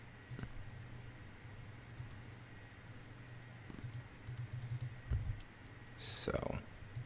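Rapid mouse clicking at a computer during play of All Walls Must Fall, a tactical video game, heard as sharp repeated clicks in short bursts over a low steady hum, close and fairly faint.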